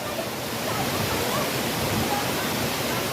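Ng Tung Chai waterfall, a constant broadband rushing roar of falling water, close and even for the whole span.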